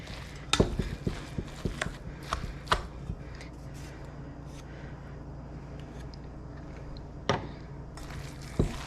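Hands mixing chorizo eggroll filling in a bowl, producing close, wet squishing and soft slaps with scattered sharper taps over several seconds, with no talking.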